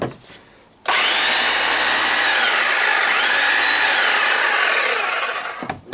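A German-made Kress 1100 MH-MAX SDS-max demolition hammer runs loud and steady in a continuous close-up whir for about five seconds, starting and cutting off abruptly.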